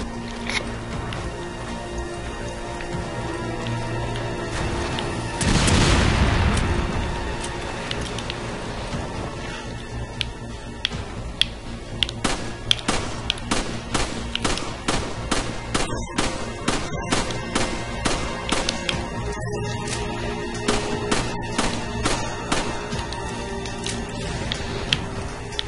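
A rocket launcher explosion in the Resident Evil 5 video game lands as a loud, booming blast, followed by a long run of sharp, rapid gunfire cracks and impacts over the game's background din.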